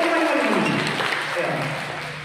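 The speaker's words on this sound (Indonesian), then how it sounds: "Oke, tepuk tangan dulu dong." Audience applause at a seminar on deep learning for English teachers in Jakarta, a steady broadband clatter of clapping throughout, with voices talking over it.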